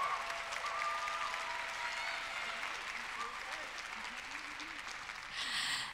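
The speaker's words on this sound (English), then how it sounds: "So let's do one more round of applause for their hard work." A convention audience in Sydney applauds the event team at a medical competition final, a soft, distant, even patter of many hands that holds steady before a brief swell at the end, with some talk underneath.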